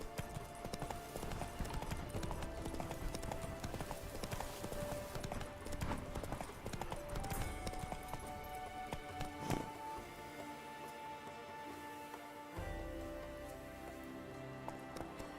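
A horse's hooves clip-clop at a steady trotting rhythm in The Witcher 3, close and continuous over a rain-like patter and background game music, fading toward the end.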